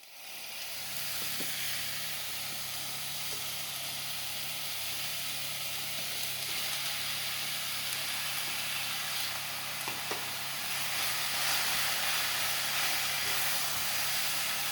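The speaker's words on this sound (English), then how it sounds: "that's starting to sizzle in the casserole now" Steady sizzling hiss of venison frying in a hot casserole pot, continuous and fairly loud, with faint occasional pops.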